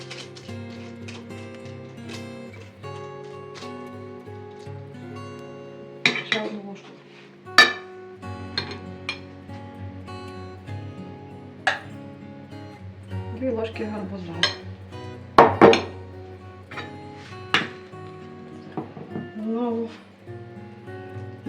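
A spoon clinks and scrapes against a bowl several times as soft, wet cottage cheese is scooped, with people talking nearby throughout.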